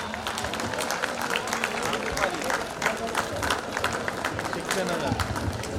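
Crowd applause at a college annual cultural festival award ceremony, dense clapping with scattered cheers sustained throughout, fairly loud and steady with a hint of voices beneath.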